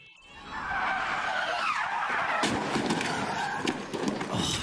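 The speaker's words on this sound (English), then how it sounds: "Such a loud hit in the concrete, such a sudden stop with the throttle stuck open like that." Formula E race car in practice at the Hyderabad E-Prix slamming into a concrete wall with the throttle stuck open, a loud sustained roar and tire screech with sharp thuds, continuous and close.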